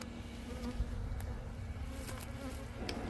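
Honeybees buzzing steadily around an open hive during a June inspection, a constant low drone close by with a few individual bees whining past.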